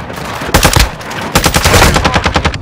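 Rapid automatic gunfire from a deployed sentry gun in Call of Duty: Modern Warfare II, loud and close, coming in two sustained bursts separated by a short pause.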